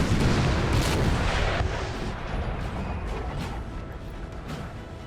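Cannon artillery fire rumbles in the battle game Napoleon Total War, heavy booms blending into a dense, continuous roar that is loudest at first and then eases slightly, with no talk.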